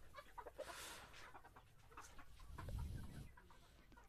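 Laying hens at a poultry farm cluck softly in a low, continuous murmur, heard faintly from nearby with a slightly louder flurry of clucks toward the end.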